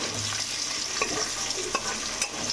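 Onions frying in a pan for chicken curry: a steady, close sizzle with occasional soft stirring scrapes and small pops, continuous throughout with no voices.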